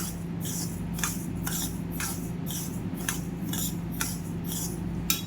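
Bhajani grain flour mix being roasted in a pan, a spatula scraping and stirring in a steady rhythm of roughly two strokes a second over a low constant hum, with no speech.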